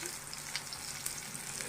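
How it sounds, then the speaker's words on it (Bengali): Pointed gourd and potatoes frying in a little oil, a fairly quiet, continuous crackling sizzle with small pops scattered throughout. "আর দেখো এখানে পটলটা আর আলুটা ভেজে নিচ্ছে"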